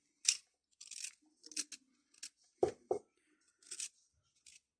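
Garden artichokes scraped with a potato peeler in a kitchen, a series of short, close, rasping strokes with brief pauses and a couple of deeper scuffs midway.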